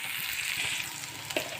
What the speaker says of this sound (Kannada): ಇದಕ್ಕೀಗ ಸ್ವಲ್ಪ ಸಾಸಿವೆ ಜೀರಿಗೆ ಹಾಕಿ ನೋಡ್ರಿ.